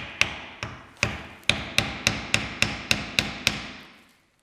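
A hammer strikes a metal Dana 60 axle part about ten times in an even rhythm, each ringing metallic tap close and sharp, spacing tightening slightly before the ring fades out.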